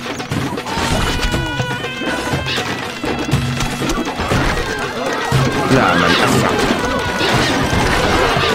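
Horses neigh and whinny in the Stronghold Crusader strategy game amid crashing, thumping battle noise and hoofbeats. Voiced game lines are spoken over the steady, loud din.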